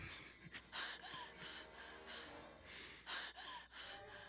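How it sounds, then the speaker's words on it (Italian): Heavy, ragged breathing in the Friday the 13th video game, close and loud, with repeated gasping inhales and exhales spread over several seconds and no talk. "E basta con sto respiro deficiente"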